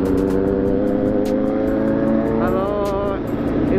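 A loud superbike with an SC Project aftermarket exhaust roars steadily, with a deep, raspy exhaust note and a rising rev near the end, while voices murmur underneath.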